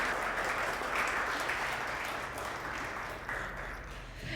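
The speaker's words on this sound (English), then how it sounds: "Let's give Mr. Reese another round of applause." An audience at a high school letter-of-intent signing gives a sustained round of applause, a steady crowd of hands clapping that eases slightly toward the end.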